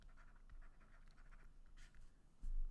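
A marker drawing on a whiteboard, faint squeaky strokes in short bursts close by, with quiet room noise and a low bump at the end.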